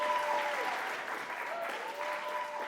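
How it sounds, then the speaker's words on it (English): A theatre audience at an arts event gives steady applause that is fairly faint and distant and holds throughout, with faint speech mixed in. "big round of applause for Dominic Took."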